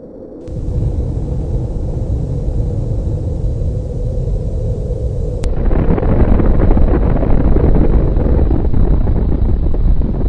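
A gunshot at a cord sets off an explosion in the video game Combat Arms: a loud, steady roaring rumble broken by a sharp crack, after which the roar swells even heavier and keeps going to the end.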